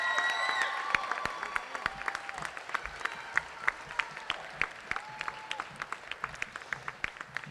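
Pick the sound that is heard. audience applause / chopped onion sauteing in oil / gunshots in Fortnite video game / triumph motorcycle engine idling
audience applause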